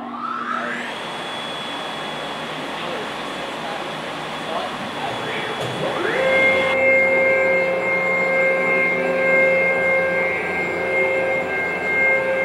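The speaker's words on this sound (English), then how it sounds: "that's actually basically a huge vacuum fan that pulls through the MDF" A loud, steady mechanical whir of a Multicam 1000 Series CNC router's vacuum table fan, pulling air through MDF, spins up and rises in pitch, then holds a constant droning hum with people talking faintly beneath.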